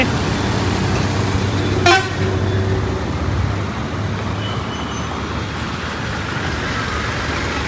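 An air-conditioned travel bus gives a single short horn toot as it pulls in on a roadside, its engine rumbling low and steady before and after.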